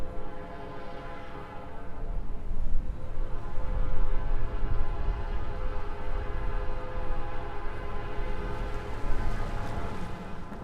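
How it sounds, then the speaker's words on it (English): A fully loaded southbound Bessemer and Lake Erie ore train, led by two Illinois Central SD70s and a Canadian National SD60, climbs Hogback Hill, its horn sounding in a long sustained blast over a deep, rumbling engine drone. "That horn that you are hearing in the background is a southbound ore train led by two Illinois Central SD70s and a Canadian National SD60."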